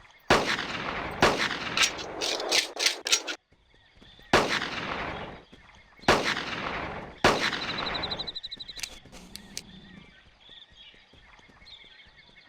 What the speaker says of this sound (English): I could try blasting with a lot of pistol shots